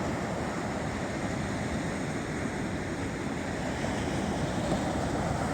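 Big, rough ocean waves crash onto the shore in a constant loud roar of surf mixed with wind buffeting, with no speech and no distinct individual breaks.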